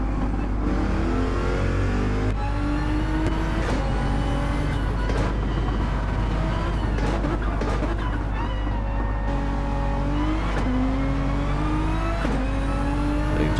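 Race car engine droning loudly from inside the car, steady low roar with rising and falling pitch as it accelerates and shifts through gears, continuous and close.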